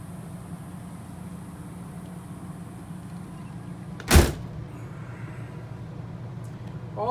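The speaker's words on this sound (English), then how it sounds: "I'm going to close the doors so you can get a better view" A door on a Blue Bird Wanderlodge motor coach shuts with a single loud, close thud partway through, set against a steady low interior hum and otherwise quiet, with no talking.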